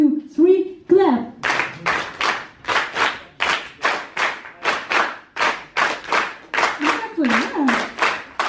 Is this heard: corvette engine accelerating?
no